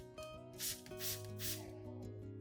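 A solution is misted onto orchid leaves in three soft, hissing spray bursts, each lasting a fraction of a second, over a steady tonal background hum.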